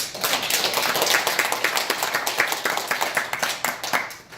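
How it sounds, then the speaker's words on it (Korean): Applause at a religious gathering, made of sparse individual hand claps in a loose, uneven rhythm that thins out toward the end. "박수 한번 주세요."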